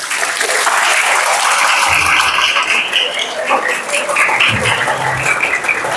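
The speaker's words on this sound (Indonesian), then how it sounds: "Tepuk tangan dulu." Applause from an audience gathered in a mosque for an Isra Mi'raj commemoration, a loud, dense burst of many hands clapping continuously, with a few voices mixed in.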